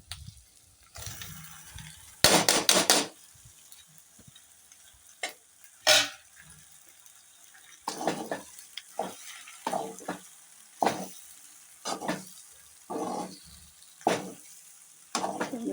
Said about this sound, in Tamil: நம்ம அதை மசாலாவில் போட்டு அப்படியே கிளறி விட்டுருவோம்